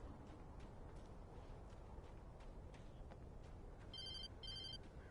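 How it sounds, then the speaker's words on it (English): An old-style telephone bell rings in Alan Wake Remastered, two short ringing bursts late in the clip over a steady bed of outdoor ambient noise, with no talking. "Phone still working?"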